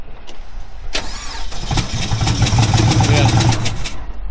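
An LS turbo car engine that failed on the track cranks with a rapid whirring starter, catches and fires into a rough, loud idle, with people talking over it.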